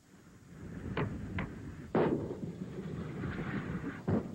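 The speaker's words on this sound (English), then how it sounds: "That's what it sounded and looked like early this morning as artillery fire pounded Iraqi positions 6 miles inside Kuwait" Distant artillery fire pounding Iraqi positions inside Kuwait during the Gulf War, four dull booms at irregular intervals, the third strongest, over a low rumbling background.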